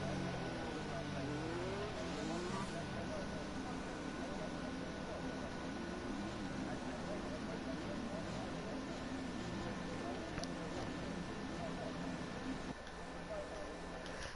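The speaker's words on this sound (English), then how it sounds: "So the cars now line up on the grid, ready for the race." Race cars idle and rev as they line up on the starting grid in a racing video game, a steady engine drone with engine notes rising and falling throughout, voices talking over it.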